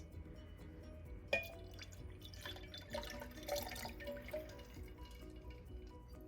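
A cup of lemon juice poured into water for homemade lemonade, a soft, faint trickle with a few drips, close by and quiet with no voices.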